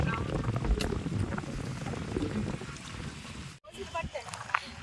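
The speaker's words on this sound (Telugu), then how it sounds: "ఈరోజు బాగా గాలి వస్తుంది" Strong wind buffets the microphone with a constant rushing roar, briefly dropping out before gusting again, with indistinct voices underneath.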